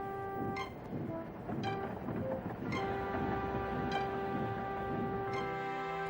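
Toy-style steam engine train running, with a steady rhythmic rumble and clatter and repeated high whistle-like tones, continuous and fairly close throughout.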